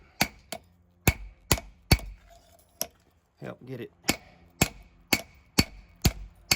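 Cross peen hammer blows on hot steel while forging a tomahawk head from a ball peen hammer: sharp, loud, close metallic strikes in irregular bursts of two or three, with a short pause and a brief spoken phrase midway.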